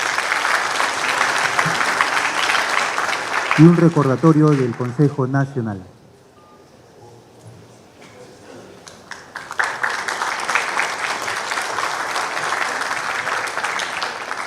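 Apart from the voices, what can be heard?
audience applause at a seismic-risk forum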